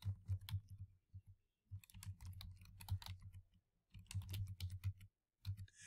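Bursts of keystrokes on a computer keyboard, quick clattering runs separated by short pauses, close and fairly quiet with no talking.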